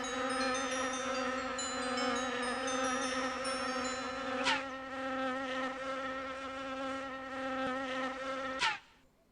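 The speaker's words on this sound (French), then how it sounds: "les abeilles partent récolter" Bees in the Adibou 2 video game drone in a steady, high synthetic buzz that carries on continuously, broken by two brief sharp accents before cutting off at the end; no speech.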